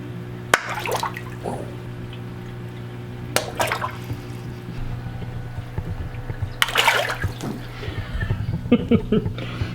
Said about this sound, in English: He is knocking water out of the tank